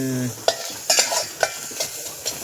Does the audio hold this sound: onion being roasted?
yes